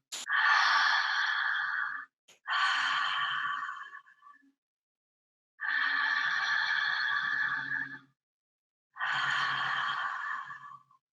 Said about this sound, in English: So here we go, 7 deep breaths.